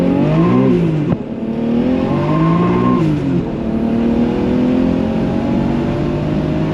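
A turbocharged car with a manual swap revs hard and accelerates through gears, the engine note rising in sweeping pitch climbs with brief breaks at shifts, loud and close throughout with no talking.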